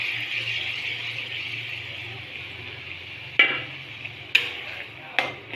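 Onion, ginger and garlic paste frying in a pan for mutton masala curry, a steady close sizzle with a low hum underneath and three sharp clanks of a stirring utensil near the end.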